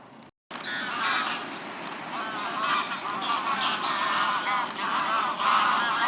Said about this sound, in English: A coot.